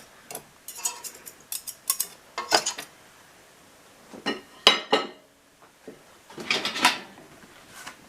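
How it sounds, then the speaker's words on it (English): A clean butter knife works homemade butter back into a bowl, giving irregular bursts of scraping, squishing and light clinking of metal against the bowl, close and fairly crisp with short quiet gaps between strokes. "taking a clean butter knife, I'm just gonna squish it back into the bowl"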